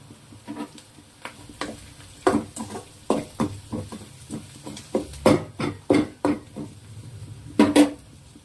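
Onions frying in a pan with ground garlic and chili powder for a home-cooked bitter gourd fry, giving a low sizzle broken by frequent close scraping and clinking stirs of a spoon against the pan.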